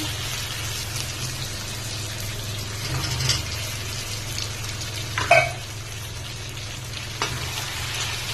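Potatoes tipped into a pan of mutton curry being fried, with a steady close sizzle and a stir or clatter near the middle, no talking.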